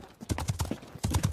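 Horse hooves clip-clop in a quick, steady series of sharp, close strikes, moving along at a brisk pace with no talk over them.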